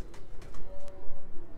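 A pet pigeon coos up close in several soft, low pulsing calls, clear and alone without talk.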